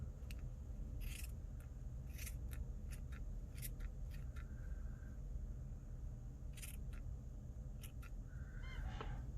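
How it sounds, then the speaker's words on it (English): Scissors trim small paper pieces for an Edith Holden-style nature journal, several brief crisp snips spaced out over a steady low background hum, close and fairly quiet. "Maybe if I can just trim them off a little bit."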